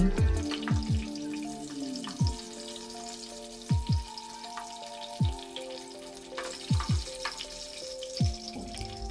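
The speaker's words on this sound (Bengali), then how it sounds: "পনে এক কাপ পরিমাণ পেঁয়াজ কুচি অ্যাড করে দিচ্ছি চুলা আঁচ মিডিয়ামে রেখে পেঁয়াজগুলোকে আমি ভেজে নিচ্ছি" Chopped onions, about three-quarters of a cup, fry over medium heat in the oil left from frying pointed gourd, giving a continuous soft sizzle punctuated by repeated sharp clinks of a utensil stirring in the pan.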